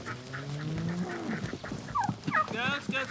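Turkeys on a homestead gobble and call nearby, starting with low, drawn-out notes and building into a burst of rapid, rising, warbling cries near the end.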